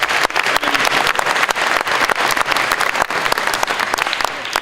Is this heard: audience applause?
yes